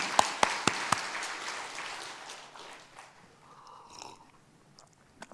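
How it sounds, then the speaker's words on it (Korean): Applause rings out in a church service, beginning with several loud, distinct claps from one nearby person and then a scattered, fading spread of clapping with faint background sounds. "박수로 한번 영광을 돌리겠습니다"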